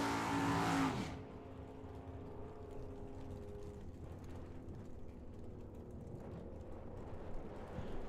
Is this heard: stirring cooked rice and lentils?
no